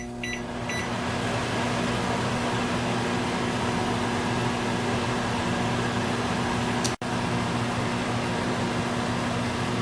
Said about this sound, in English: So I'm going to put these in the microwave for about 4 minutes